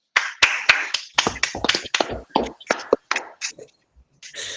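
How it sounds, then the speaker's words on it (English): A small group at a meeting gives a round of applause, scattered close hand claps that start in a burst, thin out unevenly and fade to a few last claps, with a faint murmur beneath. "So I would like everyone to please join me in a round of applause for Barbara"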